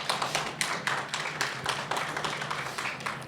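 A small audience applauds a presenter at a talk, with sparse, uneven claps that read as a few people clapping close by rather than a large crowd, steady for a few seconds with no voices.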